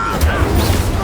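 A fiery Incendio spell cast in the Hogwarts Legacy video game, a brief dense rumbling burst with a low boom under a sustained whoosh.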